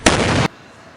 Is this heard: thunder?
no